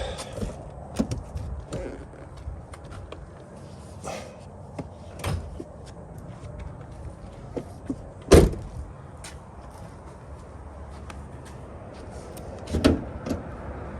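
The hood of a 1994 Mercedes-Benz S600 with a 6-liter V12 is being opened, bringing scattered clicks and soft knocks, then a sharp metallic pop and later another clunk, close by with no talking.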